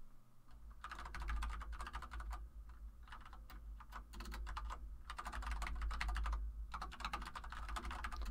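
Someone types on a computer keyboard in a steady, rapid run of clicky key presses, broken into bursts with short pauses, close up over a low background hum; no talking.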